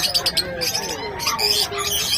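High, quick chirps and tweets from small pet birds, African lovebirds and cockatiels, close by, busy and overlapping, with faint background noise.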